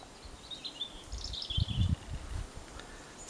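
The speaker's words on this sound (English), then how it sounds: "you can hear all the birds" Outdoor birds chirp faintly in short, high calls at a distance, with soft low rustling and bumps in the foreground, and no one talking.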